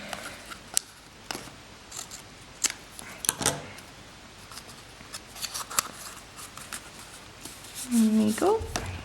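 Scissors snip through paper strips for a woven Easter basket, with a few scattered crisp cuts over ongoing handling noise and rustle, close by; a brief rising squeak near the end.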